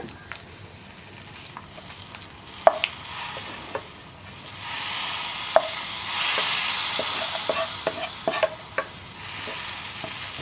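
Roasted coconut being stirred into pumpkin erissery in a pan with the flame off, a spoon scraping and clicking against the pan over a soft sizzle, with scattered taps throughout.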